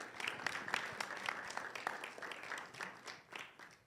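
An audience at a launch event for an urban accessibility project welcomes a speaker with steady, moderately quiet applause, a busy patter of many hands heard from a distance.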